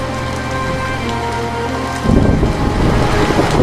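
Heavy cartoon rainstorm pours steadily and loud throughout, a dense wash of falling rain that thickens and grows louder partway through, with no voices.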